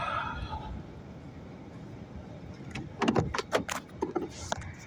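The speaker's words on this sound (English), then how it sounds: "I'm going to open my trunk." A car trunk opens in a quiet parking lot: after a stretch of soft ambient hiss, a cluster of sharp latch clicks and light mechanical thumps comes close and fairly loud.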